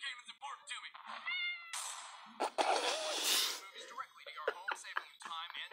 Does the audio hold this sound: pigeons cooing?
no